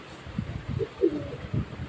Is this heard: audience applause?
no